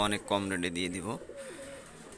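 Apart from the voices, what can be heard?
female pigeon cooing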